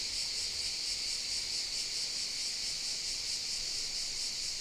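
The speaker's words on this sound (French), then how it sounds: "On entend le bruit des cigales." Cicadas drone in one continuous, even, high-pitched buzz that never breaks, heard outdoors around an abandoned site with no voices over it.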